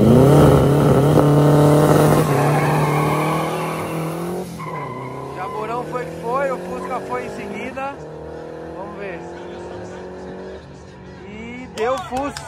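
Street drag race in Brazil, cars launching and accelerating hard with engines revving, a long tire squeal and skid running through the opening seconds, then further engine revs and passes, under a loud crowd and announcer talk.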